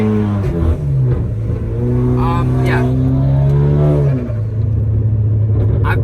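Hyundai Genesis Coupe engine revving through a $400 aftermarket exhaust, a steady droning rev held for several seconds with rising and falling pitch, loud and close, with a person's voice briefly heard.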